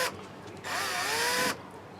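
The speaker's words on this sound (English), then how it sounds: "you're just going to drill just a small hole" Power drill boring a small screw hole into a wooden serving tray, a brief motor whine that starts, holds for under a second with the pitch wavering, then stops.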